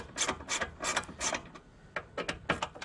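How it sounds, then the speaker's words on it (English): Striker bolts on a 2020 Polaris RZR XP Turbo door being turned out with a Torx T27 driver, a run of close rhythmic ratcheting clicks in short bursts, two groups separated by a brief pause, no talk. "you're gonna take out these two bolts here for the striker"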